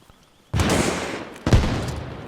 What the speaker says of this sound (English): Go ahead and get your rockets out.